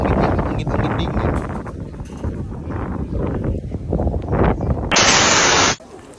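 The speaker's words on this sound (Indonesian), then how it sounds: "Ini tuh dekat pantai, cuma dingin, angin dingin." Cold wind gusting near a beach, a steady broadband rush with buffeting on the microphone throughout, a louder hissing gust near the end before it drops away.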